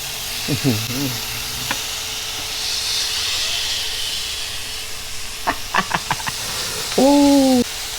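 Pork sizzles on a hot Korean grill pan, a constant close hiss running throughout while voices and short exclamations break in at the start and near the end.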